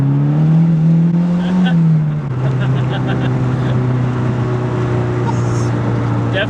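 A tuned Mazdaspeed3 pulls hard under raised turbo boost, its engine a loud, steady droning tone that climbs briefly and then settles lower as it keeps accelerating, heard from inside the car.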